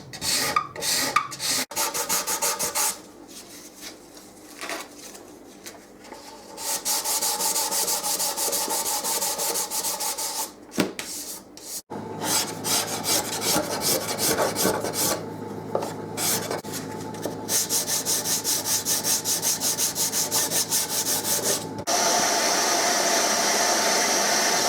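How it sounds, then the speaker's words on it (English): A cabinet scraper works across the wooden bindings of a twin-point flat-top mandolin, giving repeated dry rasping strokes in bursts with short gaps between them, close and fairly quiet. "First of all, we'll start off with the cabinet scraper."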